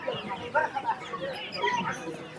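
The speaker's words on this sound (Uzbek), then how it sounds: "ba'zi mana jo'jalar bor ekan." Chicks clucking and peeping in a Qumtepa bird market, with several short cheeps scattered over a busy background and faint talk nearby.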